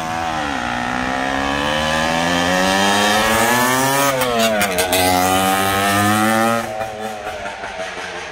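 A 1971 Ossa 250 TT scrambler motorcycle engine revs loud and close, its pitch climbing and falling as it is ridden, then easing off near the end, with no voices.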